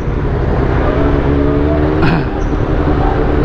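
Motor vehicles in city traffic, heard from a Honda CB400SF motorcycle on the road, with a steady engine drone and a brief vehicle pass or horn-like burst midway.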